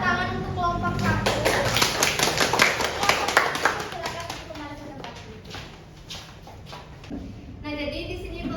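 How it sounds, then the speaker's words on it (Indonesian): A classroom of students claps for a student group, the tapping applause steady and fairly loud for several seconds before thinning out, with an adult voice speaking over part of it. "Berikan tepuk tangan untuk kelompok 1."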